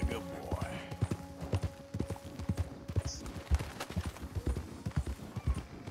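Horse hooves clip-clopping at a brisk, regular gait while riding in the video game Red Dead Redemption 2, close and rhythmic with faint game ambience beneath the steady footfalls.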